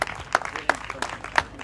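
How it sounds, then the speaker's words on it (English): A small crowd claps for riders on the podium at a national road cycling championship, sparse and uneven hand claps with a few louder individual claps, brief and moderately quiet. "Let's give them a big round of applause"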